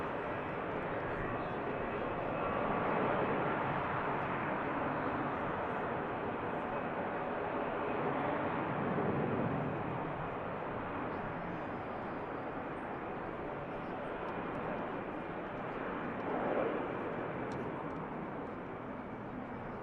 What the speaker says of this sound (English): And we have the dash of Luxair also. Just beginning its taxi now for the return leg.